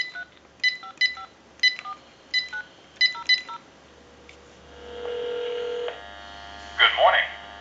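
Touch-tone dialing on a GE 6.0 27909 cordless telephone, a string of about a dozen short DTMF beeps in quick uneven rhythm, followed by a steady ringback tone and a brief burst of sound at the end.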